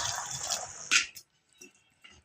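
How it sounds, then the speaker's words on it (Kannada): Water goes into a cooking pan of beans for a North Karnataka vegetable dish, giving a quick close splash after a short hiss, then a few soft drips and taps in near silence. "ಈಗ ಸ್ವಲ್ಪ ನೀರು ಹಾಕೋತೀನಿ ಇದಕ್ಕೆ."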